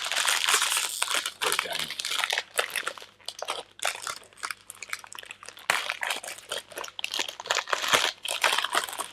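Someone fights with a crinkly plastic biscuit packet, producing loud, close crinkling and crunching in repeated bursts with short pauses between them and a brief murmur of voice in the background.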